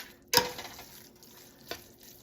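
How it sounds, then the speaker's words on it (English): Pasta being stirred through a creamy butternut squash and walnut sauce in a pan, with one sharp wet scrape near the start and a softer second stir toward the end, quiet between. "So now that the sauce is in, we're going to stir it around."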